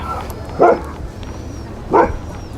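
Sled dogs waiting for a pre-race vet check at the Can Am sled dog race give two sharp, close barks about a second apart over quiet outdoor background.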